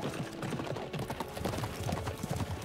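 Rhythmic hoofbeats of a galloping horse in the video game Dynasty Warriors 9: Empires, steady and continuous, with faint voices underneath.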